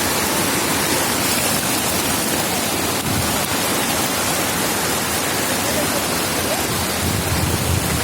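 Heavy rain pours without letup in Pune, a dense, loud, even roar of falling water close by, filling the whole stretch.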